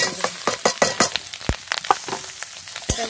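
Food is stir-fried in a pan, with a bright close sizzle and quick clattering stir strokes in an uneven rhythm over a few seconds, loud and without talk.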